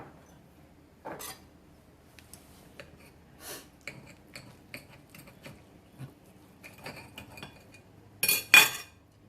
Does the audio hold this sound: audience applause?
no